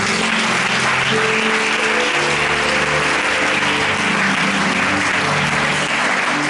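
A church congregation applauds in a service, with dense continuous clapping from many hands that stays loud and even from start to finish and has no speech over it.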